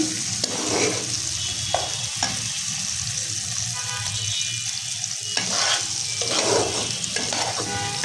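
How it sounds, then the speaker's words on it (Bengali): Egg curry with ground dried chilli cooking in a pan, a steady close sizzle and bubbling with occasional stirring scrapes, continuous and fairly loud with no talk. "ডিমটা রান্না করতেছি, শুকনো মরিচ বেটে দিচ্ছি"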